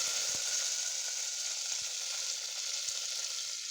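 Mustard seeds, fennel, cinnamon, cloves and curry leaves sizzle in hot oil, a steady close frying hiss with a few faint pops and spoon taps throughout.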